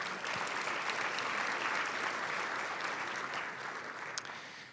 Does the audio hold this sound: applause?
yes